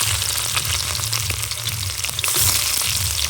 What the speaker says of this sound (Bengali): কড়াই বসিয়ে দিয়েছি তেল দিয়ে দেবো জিরে আর শুকনো লঙ্কা ফোড়ন দিয়ে দেবো একটা পেঁয়াজ কুচি দিয়ে দেবো